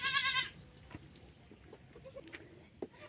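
A young goat kid lets out one short, sharp, close bleat at the very start. Afterward there is only a quiet outdoor background with a few faint clicks and rustles.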